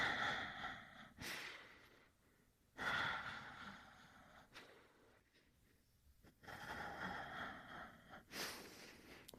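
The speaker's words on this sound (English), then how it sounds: "can you actually breathe in for 5 pumps? And out for 5." Pilates breathing on a Wunda Chair, sharp rhythmic pumped inhales and exhales through the nose and mouth, coming in bursts separated by quieter pauses, close and alone without talk.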